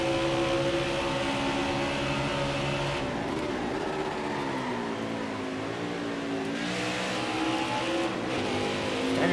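A race car engine in NASCAR Heat 5 at Road America drones loud and steady at speed, its pitch dropping and climbing again through gear changes around the corners.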